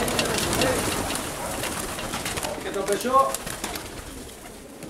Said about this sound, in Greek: Και πάλι καλά, βγήκανε τα πουλιά.